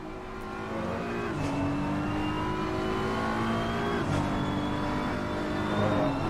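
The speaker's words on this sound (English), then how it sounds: "Nice throaty sound of the BMW." A BMW race car engine in a video game at the Hungaroring drones and revs steadily, with pitch climbing through gear changes and shifting down twice, a continuous throaty roar without speech.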